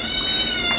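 A house cat gives a short, close meow over a steady, high-pitched background hum.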